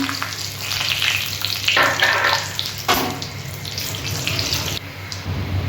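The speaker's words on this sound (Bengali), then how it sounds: "এখানে জিরে, তেজপাতা, শুকনো লঙ্কা আর গোটা গরম মশলা আছে, আমি তেলে দিয়ে দিলাম।" Cumin, bay leaves, dried chillies and whole garam masala spices hit hot oil for a goat meat and papaya curry, a loud rushing sizzle with a few stirring scrapes, close and steady throughout with no voices.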